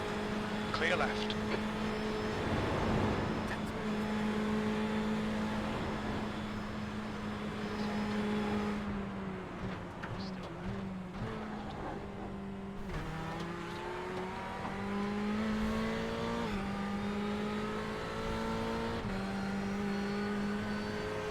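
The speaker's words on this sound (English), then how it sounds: "If you're wondering what you hear in the background, I have the stream from the car in front of us live online on the other screen from Dominic Andreas." Race car engine from an in-car live stream during a virtual VLN endurance race, heard in the background as a steady droning tone that climbs and shifts with gear changes and revs, running under continuous talk throughout.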